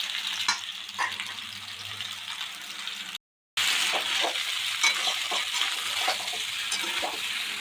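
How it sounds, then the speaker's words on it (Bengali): Macaroni fries with onion and green chilli in a pan, a steady sizzle broken by repeated scraping and clinking stirs of a utensil against the metal, with a short silent gap midway. "এবার ভালো করে ভাজাভাজি করে নেব নেড়ে চেড়ে।"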